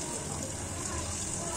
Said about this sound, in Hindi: अब हम पानी डाल देंगे